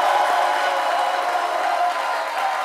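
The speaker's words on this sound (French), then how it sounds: "qu'on applaudit encore bien fort." An audience applauds after a song on a midday TV show, a steady wash of clapping and faint cheering that stays even throughout.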